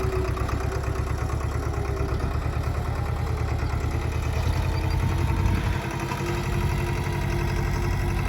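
A tractor engine runs steadily nearby in a farm onion field, a loud, low, rhythmic chugging idle with heavy vibration that holds throughout, with a brief shift in tone around the middle and no clear talk.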